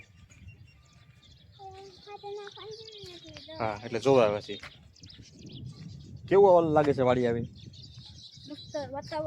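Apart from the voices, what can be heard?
small birds chirping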